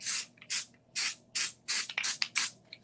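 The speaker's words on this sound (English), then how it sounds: "So this is just like fusible web, but it's spray" Spray-on fusible web adhesive released from a can in about seven short hissing bursts, each roughly a quarter second long and spaced evenly, heard close up with no talking.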